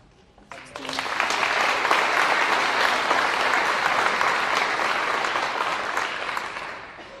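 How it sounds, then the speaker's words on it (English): An audience applauds at a Scottish Open snooker match, with dense, sustained clapping that swells quickly and holds steady for several seconds before easing off slightly. "I think you deserve claps there"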